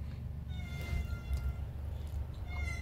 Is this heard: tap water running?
no